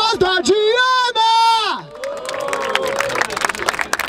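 At a freestyle rap battle in Barueri, a shouting voice leads into a crowd cheering and clapping, the mixed cheers and applause filling the second half as a dense, lively roar.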